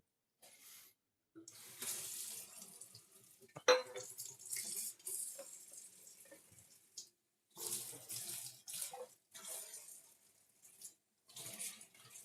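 A tap runs into a sink while dishes are washed, water splashing in irregular bursts with brief pauses, a sharp clatter near the start, fairly close.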